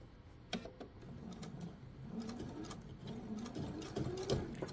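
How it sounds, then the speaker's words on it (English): A domestic sewing machine runs slowly and steadily, stitching along a folded edge of a fabric laptop sleeve, its quiet mechanical chatter continuous with small bumps in level. "we're going to sew until we come to our next corner"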